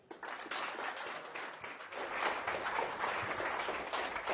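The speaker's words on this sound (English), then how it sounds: "let's give a round of applause for Illia" Audience applause at a tech showcase event, a dense sustained wash of many hands clapping that swells after a quieter start and holds steady, fairly loud, with no talk over it.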